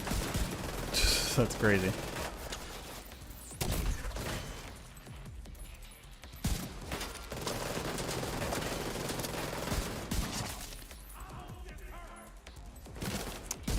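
Video game gunfire of a steady-handed rifle, rapid bursts and sustained fusillades with a few booms, close and loud, mixed with someone speaking over parts of the action.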